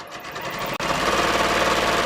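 A sewing machine stitches muslin fabric in a steady, close, continuous run with one very brief break early on, no voices.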